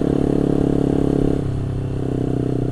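A motorcycle engine pulling along a rural road, a loud close throbbing drone that dips in pitch partway through and then continues steadily, with no talking.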